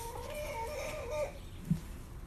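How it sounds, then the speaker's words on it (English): Chickens clucking nearby, a few short warbling calls early on followed by quieter background and a single soft thump, with no talk. "Hey buddy, there's my chicken."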